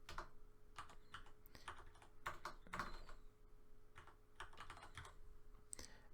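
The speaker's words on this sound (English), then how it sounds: "I've got to type my description in here." Fingers type on a computer keyboard in short irregular bursts of quiet clicks, separated by brief pauses, faint against a low steady hum.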